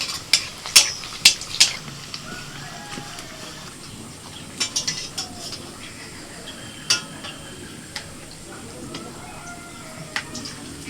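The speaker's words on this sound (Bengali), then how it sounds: "এবার দুটো করে একসাথে ভেজে নেব" Kachori deep-frying in hot oil two at a time, a soft background sizzle broken by sharp metallic clinks of a slotted spoon against the pan, with quiet speech at times.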